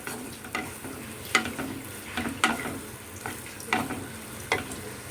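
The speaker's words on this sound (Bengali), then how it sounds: "প্রথমে পেঁয়াজটা একটুখানি লাল লাল করে ভেজে নিতে হবে" Onions frying in a pan until reddish for an egg curry, with a steady sizzle broken by several sharp stirring scrapes at irregular intervals.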